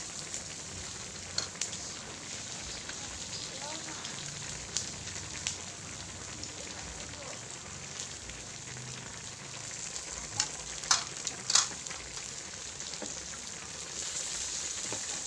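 Pork sizzles and crackles on a hot Thai tabletop grill, a soft continuous frying hiss punctuated by scattered sharp pops and spits.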